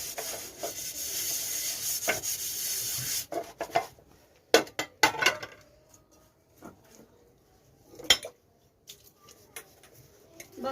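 Dishes, pots and plates are washed by hand in a home kitchen, with running water gushing at first, then scattered scrubbing, rubbing and clinking of utensils, with birds faintly in the background.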